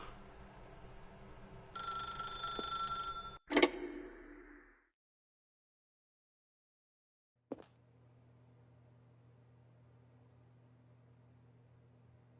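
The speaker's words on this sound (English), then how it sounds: "If you can truly place your faith in another, then pick up the phone." A telephone rings in a video game, a bright repeating bell tone that cuts off sharply, followed by a click, silence, then a low steady hum.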